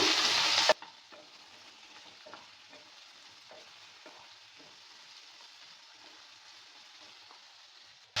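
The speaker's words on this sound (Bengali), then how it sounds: "এবার দিয়ে দিচ্ছি কেটে রাখা আমরা আমড়াটা দেওয়ার পর ভালো করে নেড়ে চেড়ে দিচ্ছি" Hog plum pieces hit hot oil tempered with five-spice seeds in a loud sizzling burst, then settle into a faint steady fry with soft, scattered scrapes of a spatula stirring the pickle in the pan.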